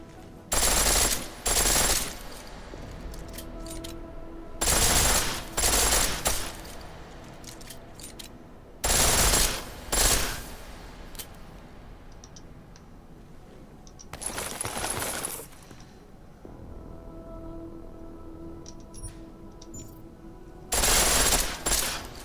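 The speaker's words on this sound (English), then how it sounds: "The pistol in full auto will take down targets fast, but it'll burn through your ammo" A pistol fires on full auto in Deus Ex: Mankind Divided, loud rapid bursts of about a second each, repeated five times with pauses of quieter room tone and mechanical clicks between.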